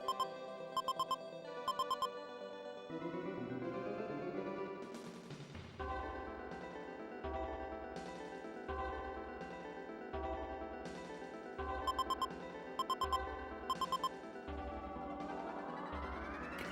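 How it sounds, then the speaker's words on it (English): SimEarth's electronic alarm beeps in short repeated bursts of high tones over a synthesized game music loop with low pulsing notes, all at a low level with no talking. "Now the game angrily beeps at us."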